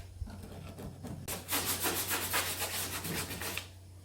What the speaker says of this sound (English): I also decided to use a little scraper for the larger chunks of paint.